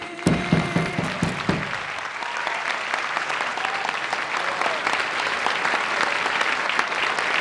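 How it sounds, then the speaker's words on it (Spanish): A crowd at a Perón tribute event at the CGT applauds after the Argentine national anthem. Singing fades in the first moments as dense, steady clapping swells and continues, filling the hall. "Se aplaude el himno, la posibilidad de estar todos juntos."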